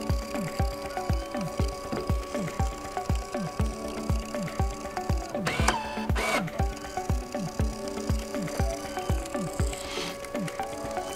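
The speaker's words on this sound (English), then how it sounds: "Here it's printing variable data." A Brother PT-E800W label printer running off a batch of labels, a rapid, regular mechanical chatter of repeated feed strokes close by, with a brief whirring burst of the cutter midway.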